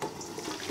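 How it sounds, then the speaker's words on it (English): Poultry stock is poured straight into a strainer in a kitchen: a brief, close, steady splashing rush of liquid with no talking. "So I'm just going to pour this directly into a strainer."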